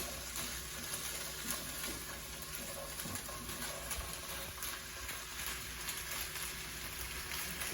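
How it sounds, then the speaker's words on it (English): Steady, soft sizzling of food frying in a pan, a continuous crackly hiss with occasional faint stirring noises and no voices. "Sizzling away."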